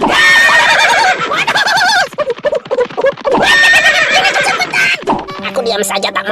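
An animated cartoon horse gives loud, wavering whinnies in two long bursts, with clip-clop hoof beats and music between and after them.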